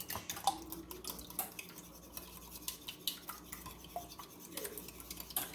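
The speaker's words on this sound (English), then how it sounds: "I'm going to beat my eggs." Eggs beaten in a bowl for banana nut muffins, with quick, light clicking and tapping strokes of a utensil against the bowl in an uneven rhythm, close and fairly quiet.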